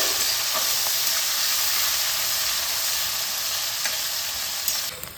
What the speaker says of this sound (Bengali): আমি এবার এই পেঁয়াজ কুচিগুলো এর মধ্যে দিয়ে দিচ্ছি।